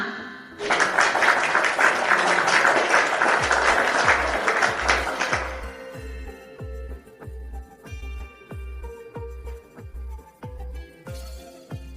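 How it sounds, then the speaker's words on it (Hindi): A burst of applause at a girls' college welcoming a guest rises for about five seconds, then fades as a song begins with a steady, regular beat underneath. "तालियां।"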